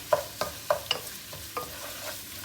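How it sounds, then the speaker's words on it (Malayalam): Biryani masala fries in oil in a pan while a spoon stirs it, producing several sharp scraping knocks over a low, steady sizzle, close and without talk. "ഇത് ഇളക്കി കൊടുക്കുക നല്ല ബ്രൗൺ കളർ ഷെയ്ഡ് ആവണം കേട്ടോ നല്ല ഫ്രൈ ആയിട്ട് കിട്ടണം"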